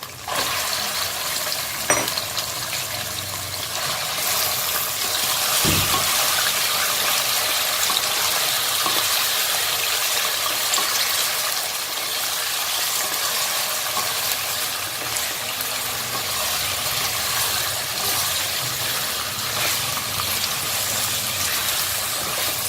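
Mutton pieces frying in a pot for nihari, a steady broadband sizzle with occasional stirring clatter, close and continuous throughout with no talking.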